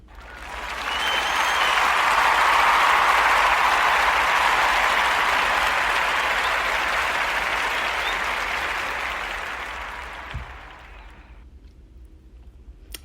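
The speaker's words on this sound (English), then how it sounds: "I have to give you all a round of applause" Sustained audience applause swells quickly to a full, steady wash of clapping, holds for about ten seconds, then tapers and fades out, leaving near silence.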